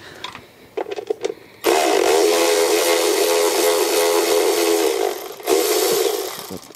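Loud, steady power-tool-like whirring and rattling from work on a rear timing belt cover of a 2000 Honda Odyssey with a flexible 10 mm socket, preceded by a few sharp clicks and briefly dipping before resuming.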